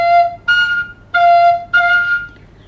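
A recorder alternates low F and high F, changing only how much the back thumb hole is covered. Four clear, held notes come in quick succession, played solo and fairly loud with no talking.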